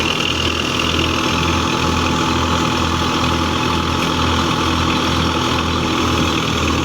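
A Russian 510 tractor's diesel engine drives a large heavy-duty thresher, producing a steady low rhythmic chugging with a constant droning, whirring mechanical layer over it, loud and close throughout.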